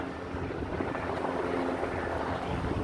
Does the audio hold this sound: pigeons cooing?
no